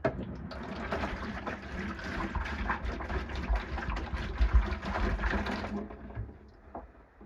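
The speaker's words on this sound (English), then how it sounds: "We'll fill it into this bucket." Bleach pours from a container into a bucket, a steady splashing gush at close range that runs for about six seconds before tapering off and stopping.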